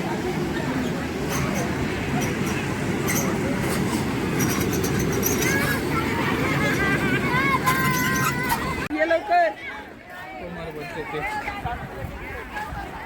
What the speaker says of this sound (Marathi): लहान मुलांसाठी पण छोटीशी ड्रॅगन ट्रेन आहे.